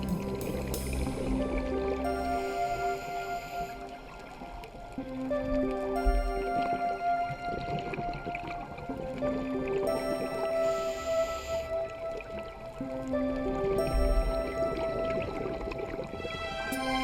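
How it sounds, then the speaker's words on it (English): Underwater scuba diving in Bonaire: a diver's exhaled bubbles gurgle and burble in recurring bursts against a steady hum, with tonal notes layered over it. "And there are plenty of bubbles being made here."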